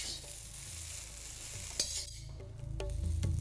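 Noodles tossed and stirred in a hot pan with salt, white pepper and sugar for chicken gravy chow mein, a soft steady sizzle with a few scraping clicks from the spatula.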